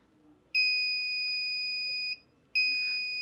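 A multimeter beeps on a continuity test while probing an Oppo A7 phone display circuit during repair: two clear, loud steady tones, the first about a second and a half long, then a short gap before the second begins.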